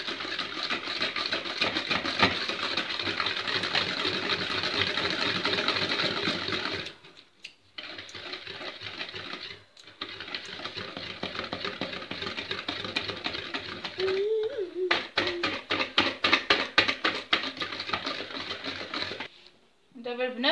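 Eggs whisked with sugar and vanilla for a fluffy milk-powder cake, an electric mixer whirring steadily and fairly loud, with brief pauses and some clattering toward the end.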